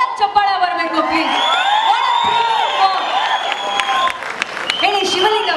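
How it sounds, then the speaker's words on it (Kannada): Applause and cheering from the audience at a Kannada film's 100-day celebration event, a sustained burst of clapping mixed with whoops and shouts, loud and filling the space, with a voice speaking over it. "ಅದಕ್ಕೊಂದು ಜೋರಾಗಿ ಚಪ್ಪಾಳೆ ಬರಬೇಕು ಪ್ಲೀಸ್"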